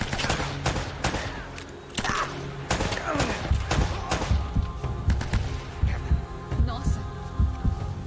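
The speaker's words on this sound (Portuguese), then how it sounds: "Caraca, cara. Você levou com os tiros." Enemy gunfire in the video game Uncharted: Drake's Fortune comes as rapid, loud bursts of sharp shots over a low throbbing hum, with dense volleys running nearly continuously through the stretch.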